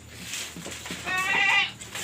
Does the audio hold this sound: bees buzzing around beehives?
no